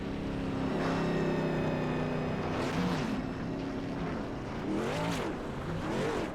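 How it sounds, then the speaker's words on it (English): A race truck revs hard through burnouts on the front stretch at The Glen during a Synergy Elite Truck Summer Series race, its engine surging and falling in repeated roaring swells at a moderate distance, with no talk. "We're gonna do some burnouts here."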